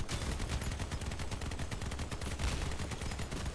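Heavy machine gun and Reaper autocannon fire from a Stryker AFV build in the vehicle combat game Crossout, a continuous rapid stream of shots and impacts, loud and close throughout with no talking.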